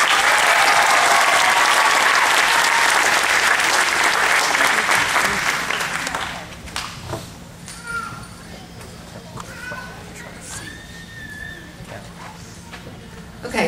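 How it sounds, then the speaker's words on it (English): Audience applause at an elementary school 5th grade commencement, a dense, loud round of clapping that lasts about six seconds and then fades, with scattered voices and chatter afterwards. "Give her a round of applause."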